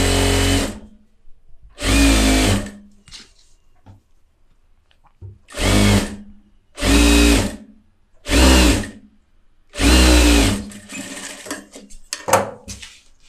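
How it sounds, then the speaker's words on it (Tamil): A tailor's sewing machine stitches fabric in a series of short, loud motor bursts, each a second or so long, with brief quiet pauses and light handling noises in between. "தையல் போட்டுட்டேன்"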